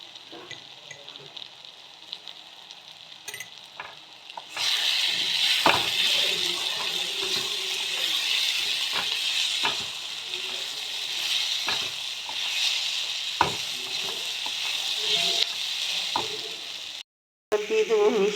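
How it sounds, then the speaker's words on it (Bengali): Broken wheat (dalia) and vegetables with curry leaves sauté in a pan. A loud, continuous sizzle starts a few seconds in, with stirring scrapes and knocks, and briefly cuts out near the end. "সাথে সবজির সাথে আমি এগুলো কষিয়ে নিচ্ছি।"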